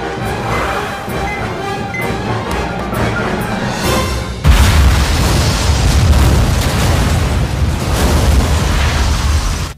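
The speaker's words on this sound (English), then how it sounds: "So they set up a bomb at Andy Milonakis's birthday party" A bomb goes off at a birthday party in a comedy film, a sudden heavy blast that cuts in halfway and then rumbles on loudly, with no speech.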